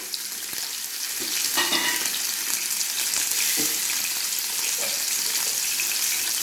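Fish frying in oil in a pan, a steady close sizzle with crackling bursts and occasional clinks, no voices.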